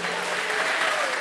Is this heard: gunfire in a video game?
no